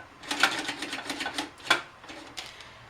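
Small screws being worked out of a Keurig coffee maker's plastic housing: a close, quick series of scratchy clicks and rasps from the screwdriver, with no talking.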